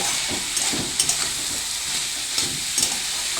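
Ash gourd and mung dal with ginger-free spice mix sautéing in a pan, a steady broad sizzle with intermittent stirring scrapes and soft clatters close by, no voices.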